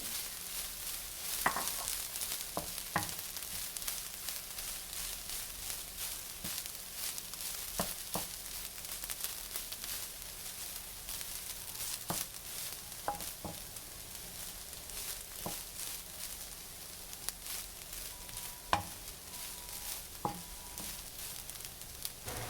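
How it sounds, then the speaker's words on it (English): Steady crackling sizzle of soy curls frying in hot oil, with scattered sharper pops and occasional utensil taps, continuous throughout with no talking. "Just going to go ahead and fry the soy curls until they're nice and golden."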